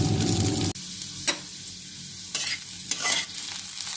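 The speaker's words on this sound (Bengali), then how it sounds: "পাতলা পাতলা করে আলু এইভাবে কেটে নিয়েছি। আলুটা একটু সটে ভেজে নেব।" Thinly sliced potatoes sautéing in a little oil with nigella seeds in a pan, a bright sizzle that drops sharply after a moment, then occasional scraping stirs and crackles close by.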